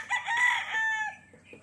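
A rooster crows once at a game farm in Bauang, La Union, a bright, strained call that rises, holds and trails off, close and clear, followed by a few faint clucks.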